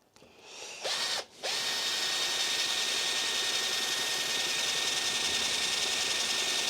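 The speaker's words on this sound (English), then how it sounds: "now what I need is to find a drill bit to create a hole big enough for this to basically hook through." A power drill bores a hole for a hook while building a retrobrighting rig, a loud steady high-pitched whine running nearly continuously after a brief start-stop near the beginning, with no talking.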